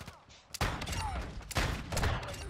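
Gunfire through a wall in Modern Warfare II (2022), with Basilisk revolver shots: a few loud, close blasts in quick succession, each with a booming tail.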